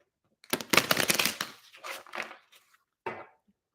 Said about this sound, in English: They said 3 shuffles, so we'll shuffle this 3 times.